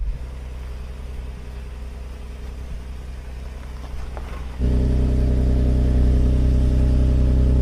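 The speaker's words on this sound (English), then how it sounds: "What I'm doing is applying throttle while also using the brakes." A BMW X3 M engine drones under throttle while off-roading, then its note swells louder and deeper partway through and holds a steady, heavy hum close by.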